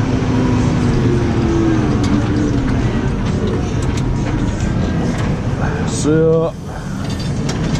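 A T6 155 tractor engine drones steadily at close range while ploughing, its low rumble continuous throughout, with a short mechanical whine near the end and brief talk.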